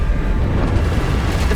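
A Bombarda spell explosion in the video game Hogwarts Legacy gives one loud, dense, rumbling blast that fills the whole moment with heavy booming noise.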